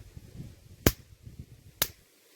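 Two sharp, loud electric snaps about a second apart from a solar electric fence wire on a banana farm, over a faint low background rumble.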